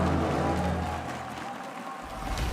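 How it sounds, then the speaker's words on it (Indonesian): Applause from a live esports crowd at a Mobile Legends MPL Indonesia playoff match, a steady broad wash of clapping and cheering over an arena hum, sustained throughout. "berikan tepuk tangan kalian"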